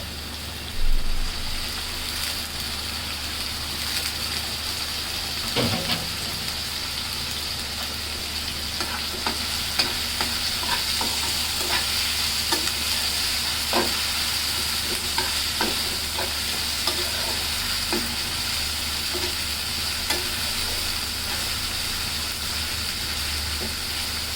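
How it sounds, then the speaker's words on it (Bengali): Steady sizzling of dried fish frying in a pan, with occasional crackles and the scrape of stirring, continuous throughout with no talking. "শুটকিগুলা দিয়ে দেই, একটু ভাজবো।"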